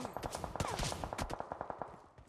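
Rapid, crowded gunfire from a PUBG Mobile battle, which includes AWM sniper shots: a dense run of sharp cracks and booms close together, loud and steady across the stretch.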